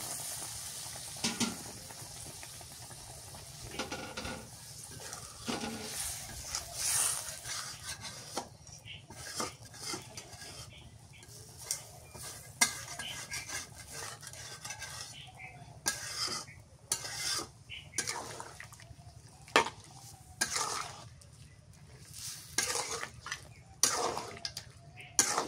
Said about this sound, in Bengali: ভালো করে কষান করছি তো একটু জলের পানি দিয়ে